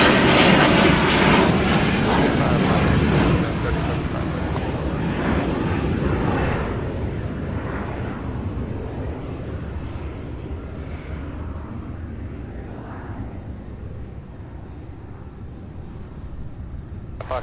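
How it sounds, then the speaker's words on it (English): An aircraft takes off at Louisville's SDF airport, a loud broad jet roar that starts strong and slowly fades as it moves away, heard alone without voices. "Oh, we have a takeoff here."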